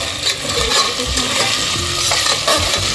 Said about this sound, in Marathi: जरा गॅस फास्ट करते, आपल्याला बटाटे क्रिस्पी करायचे।